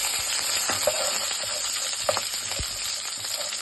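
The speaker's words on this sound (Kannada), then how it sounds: "ಮೆಂತ್ಯ ಸೊಪ್ಪು ಹಾಕ್ತಾ ಇದ್ದೀನಿ. ಅದು ಸ್ವಲ್ಪ ಎಣ್ಣೆ ಫ್ರೈ ಆಗಲಿ." Fenugreek leaves frying in oil in a pan for aloo saagu, a continuous steady sizzle with occasional light clinks and stirring knocks, close and moderately loud, no voices.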